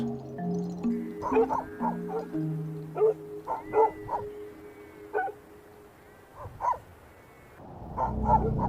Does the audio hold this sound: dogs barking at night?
yes